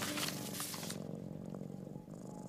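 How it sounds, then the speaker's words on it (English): A cat in the video game Gori: Cuddly Carnage purrs, a soft, steady rumble low and close, with a brighter hiss of background music fading out early on. "Oh, you can hear the kitty purring."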